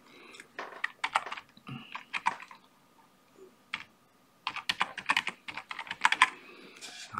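Close, clattering keystrokes on a computer keyboard as a Telegram channel link is typed, in uneven bursts with brief pauses, no voices over it.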